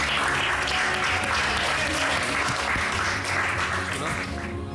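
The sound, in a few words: audience applause for a card trick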